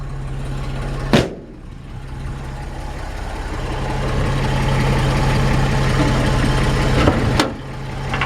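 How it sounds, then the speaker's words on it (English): A 1951 Chevrolet 3100 truck engine idles steadily with a low, even hum, two brief clunks or knocks breaking in near the start and the end. "Let me let you hear the engine."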